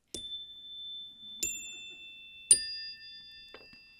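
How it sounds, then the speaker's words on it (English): Chimes at a medical conference panel strike four separate times at roughly one-second intervals, each bright ding ringing out and decaying into near silence, alone with no talk. "Now, to implement these ground rules, I have brought some chimes."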